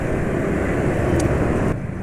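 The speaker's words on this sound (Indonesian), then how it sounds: "Suara mesin juga sudah kasar ini, nggak seharusnya seperti ini." Scooter engine idling rough on Petrona Sprinta 15W50 oil, a steady coarse low drone with a gritty, uneven texture, fairly loud and close, with a brief faint click near the end.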